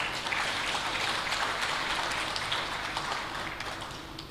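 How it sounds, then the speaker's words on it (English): Audience applause at a climate action forum held in a hotel, a broad, continuous rush of clapping from many people that holds steady and begins to fade slightly toward the end. "Let's give them a hand of applause."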